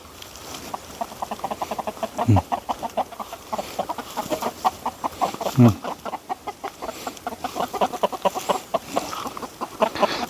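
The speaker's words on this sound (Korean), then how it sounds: "아, 닭들 여기 있구나." Chickens cluck steadily and close by in a farmyard, a dense run of rhythmic clucks with a couple of louder squawks, while a person talks quietly now and then.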